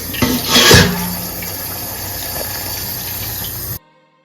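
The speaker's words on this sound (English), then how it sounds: "Gotta rinse this out." Sea moss being rinsed under running water, a steady splashing gush that swells near the start and then keeps a constant flow until it cuts off abruptly.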